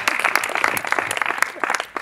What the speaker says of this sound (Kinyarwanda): muduhe amashyi